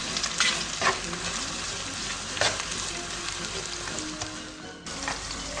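Onions sizzle steadily in a hot pan while a utensil scrapes and stirs them in a few sharp strokes, close and fairly loud.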